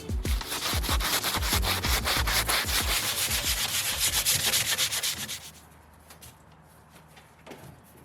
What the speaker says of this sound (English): it isn't the cleanest of cuts, but nothing sandpaper can't fix